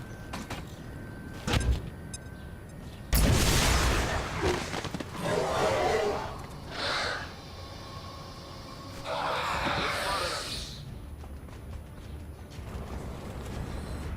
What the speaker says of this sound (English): So I'm going to grenade these people.